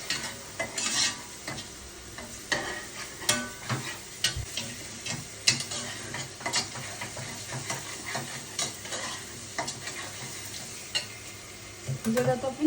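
Ginger-garlic paste, chopped in a chopper, fries in a pan and is stirred, with repeated scraping strokes and clicks over a continuous close sizzle.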